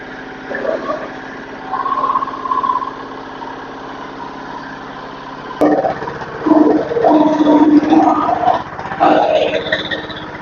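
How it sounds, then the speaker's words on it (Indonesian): Engine of a shredding machine with saw blades for chopping cassava stems on a goat farm runs at a steady low drone, while people talk loudly over it. "yang digunakan untuk cacah batang singkong itu mesin serut"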